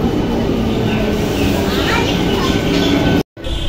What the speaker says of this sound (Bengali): অবশেষে কাটোয়া যাওয়ার গাড়ি চলে এসছে, আমরা এবার রওনা দেব